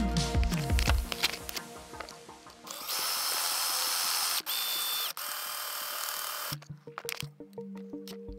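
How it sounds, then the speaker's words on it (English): A power drill boring holes for a motorized hot air duct throttle prototype for a campervan, a steady high whine running several seconds, cutting off, then followed by clicks and handling noises close by. "right now we have to drill these holes again"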